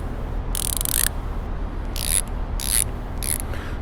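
Cornwell ratchet clicking in four quick bursts of crisp, bright ratcheting, close to the mic, separated by short pauses over a low background hum.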